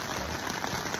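Steady dense patter of rain drumming on a thin tent overhead at a campsite, continuous and close, with no voices.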